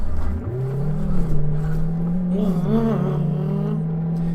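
A Range Rover's engine in the City Car Driving video game, driving through snow, drones as a steady close hum whose pitch climbs as it accelerates, then holds a sustained, slightly wavering tone with no voices.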